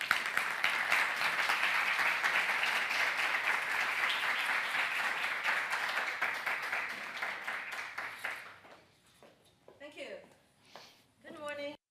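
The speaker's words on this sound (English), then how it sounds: "Let's give her a round of applause." A lecture audience at a semiconductor forum gives a speaker a round of applause, a long, even stretch of many hands clapping that fades out, followed by a few faint, scattered sounds at the end.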